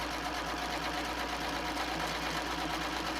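A sewing machine stitches through thick quilt batting on a potholder, giving a continuous, even, fast mechanical hum and tapping at close range with no voices.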